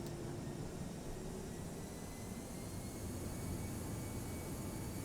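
Airbus jet engines spool up in the X-Plane 11 flight simulator, a broad, even rushing roar holding steady throughout with no voice.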